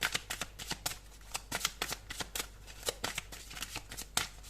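Tarot cards are shuffled by hand in a rapid series of crisp riffling bursts, close and clear with uneven rhythm, roughly a dozen quick flutters.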